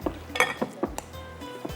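A spoon clinks and scrapes against a bowl while mashed potatoes are stirred together with cream, butter and parsley, giving several short, close metallic knocks with soft squelchy mixing between them.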